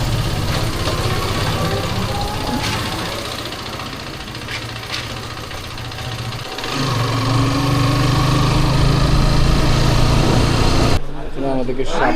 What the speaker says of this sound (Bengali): বাইক নিয়ে এখনই বের হয়ে যাবো